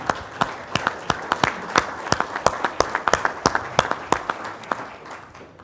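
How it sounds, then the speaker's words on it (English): A symposium audience of ALPA and NATCA attendees gives a round of applause, with clear individual claps standing out over a steady crowd patter that fades gradually toward the end. "Can I have a round of applause before I do final closing comments?"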